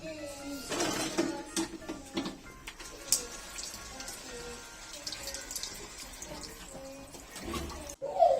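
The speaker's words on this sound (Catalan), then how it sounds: "i ara posarem una mica d'aigua" Water pours into a bottle holding small beads, a running, splashing trickle lasting several seconds with faint background voices.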